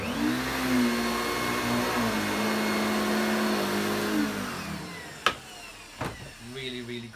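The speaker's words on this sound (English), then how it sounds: "The motor on it sounds a little bit more smoother than it did before from blasting it out with all the dirt." A 2000 Samsung Wide Clean vacuum cleaner motor runs steadily at a constant hum with a slight pitch drop, then two sharp knocks break in near the end as the drone continues.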